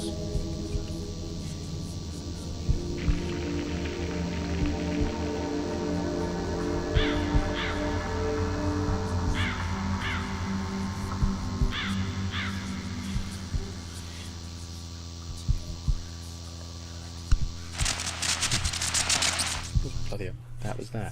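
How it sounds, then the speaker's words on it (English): Eerie crow caws and croaks from the Tree of Crows painting in The Lost Crown, repeated short calls in clusters over a low droning ambience, with a harsher burst near the end. "Strange sounds recorded from the painting Tree of Crows."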